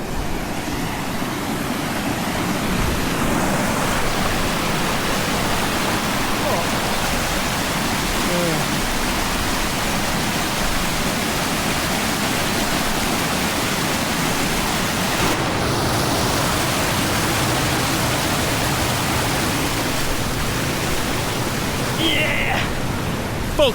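Steady roar of a waterfall, broad and unbroken, close by and loud throughout, after recent rain.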